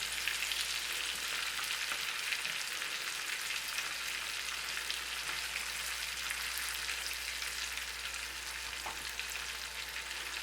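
Lamb chops fry in butter in a pan, giving a steady, even sizzle that stays constant and moderately loud throughout, with no talking.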